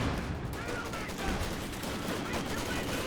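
Sustained machine-gun fire from a captured MG34 in the strategy game Company of Heroes 2 blends into a dense, continuous battle din, with a commentator talking throughout.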